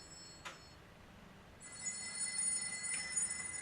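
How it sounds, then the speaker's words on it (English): A flip phone held together with duct tape rings indoors, a repeating electronic ringtone with sustained high tones that begins partway through and carries to the end, fairly faint over room noise. "That's the phone."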